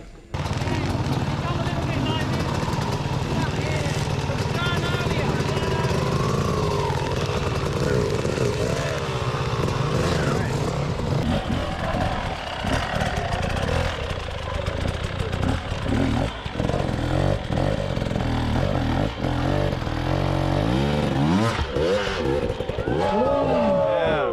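Graham Jarvis's enduro motorcycle roars close by during a Hanoi training session, its engine revving up and down continuously through clutch work and front-wheel lifts, loud and unbroken, with a voice faintly under it.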